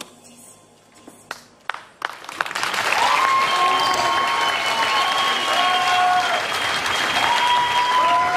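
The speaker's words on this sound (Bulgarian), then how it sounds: "Вашите аплодисменти за TC World." A talent show audience at the Bulgaria's Got Talent finals bursts into applause after a dance performance, starting with a few scattered claps and swelling into loud, sustained clapping over music and cheering.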